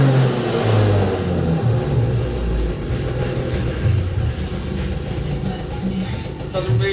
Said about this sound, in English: Doesn't really have any restrictions on getting to full rev